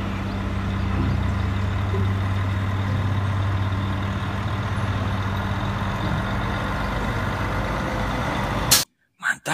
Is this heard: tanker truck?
yes